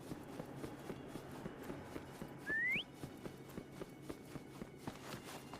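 Someone whistles a short rising call to summon a mount in the Wuthering Waves video game. It is a single quick note amid a steady patter of running footsteps, with no voices.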